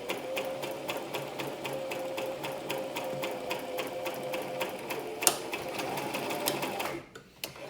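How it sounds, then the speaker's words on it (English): A sewing machine stitches down the fabric of a face mask with a filter pocket, a close, steady rapid chatter with back stitches, then a brief clunk as it stops near the end. "I'm gonna just sew all the way down and do some back stitches"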